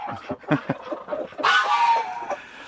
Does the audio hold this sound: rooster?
yes